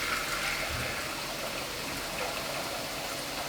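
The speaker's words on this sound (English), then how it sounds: "we're going to add about 1 litre of boiling water to a pan" About a litre of boiling water is poured into a cooking pan, a steady broadband splashing rush that continues evenly throughout, fairly quiet and with no talking.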